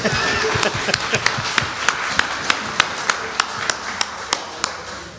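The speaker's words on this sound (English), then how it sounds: "I think that's worthy of applause." During a church congregation's annual meeting, a small group claps in a steady, evenly spaced rhythm of about a dozen sharp, fairly close claps, with a faint murmur of voices underneath.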